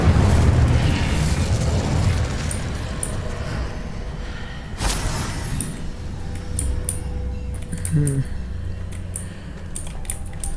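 Incendio fire spell cast in Hogwarts Legacy, a burst of magical fire with a sharp boom amid ongoing battle effects, pops and a steady rumbling game soundscape.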